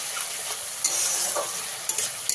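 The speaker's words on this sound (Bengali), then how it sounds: "যতক্ষণ না পেঁয়াজের কাঁচা গন্ধটা যাচ্ছে ততক্ষণ পেঁয়াজটাকে খুব ভালো করে ভেজে নিতে হবে।" Ground onion paste fries in a pan, giving a bright continuous sizzle broken by a few short scraping stirs, close and without voices.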